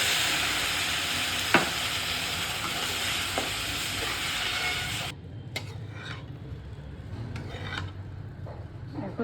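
Semolina for upma fries and is stirred in hot oil, a dense steady sizzle with scraping strokes that drops in loudness partway through, then continues more softly with occasional rasping stirs.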